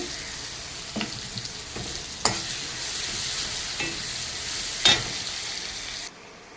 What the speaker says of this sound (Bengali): আমার আদা কুচি পেঁয়াজ কুচিটা ভাজা হয়ে গেছে